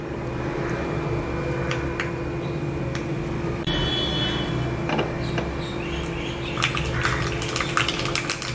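Steady hiss of hot oil as mustard seeds and urad dal fry, with sharp crackling pops and spatters growing busier toward the end as seeds start to burst.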